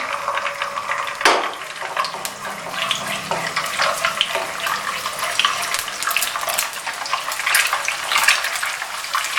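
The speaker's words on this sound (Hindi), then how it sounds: "हाफ कप ऑयल जाएगा, इसको गर्म होने दें। अंडा शामिल किया इसमें" An egg hits half a cup of hot oil for chicken fried rice with a sharp burst, then a steady close crackling sizzle carries on without talk.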